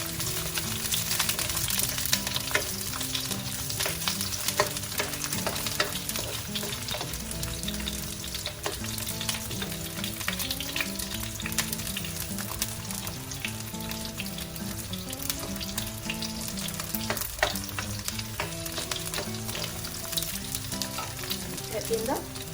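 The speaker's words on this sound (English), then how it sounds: "Lemongrass goes in, and together with that, the paste will be going in too. Just saute this for about 1 minute." Lemongrass and green curry paste sautéing in a pan over a low flame for green chicken curry, giving a continuous loud sizzle with frequent spatula scrapes and taps in an uneven rhythm; no talking.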